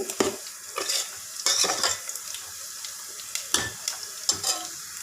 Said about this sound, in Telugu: ఇక్కడ ఉల్లిపాయలు వేగుతున్నాయి